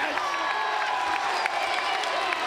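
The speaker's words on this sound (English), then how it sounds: "The crowd goes crazy." Wrestling arena crowd roaring and cheering at a TNA X Division match, a loud continuous wash of voices and whoops with some clapping, steady throughout.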